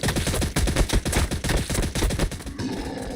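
Upgraded Gatling gun fire in the strategy game Warhammer 40K Battlesector: a dense, loud, continuous stream of rapid shots that rattles for about three seconds before thinning slightly at the end, with no voices.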